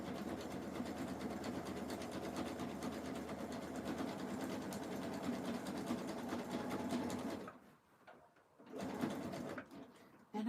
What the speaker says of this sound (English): And I've sewn off the edge again.